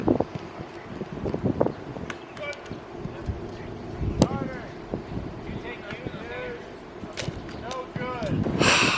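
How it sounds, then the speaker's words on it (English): Strong wind buffets the microphone at an outdoor football field, with rough low rumbling gusts throughout, mixed with distant voices and scattered thuds and clatter. "This wind is brutal, man."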